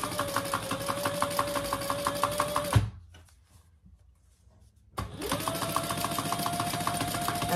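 A sewing machine top stitches the handle of a fabric casserole carrier. A fast, steady mechanical whir runs for a few seconds, stops during a quiet pause, then starts again and keeps going. No one talks.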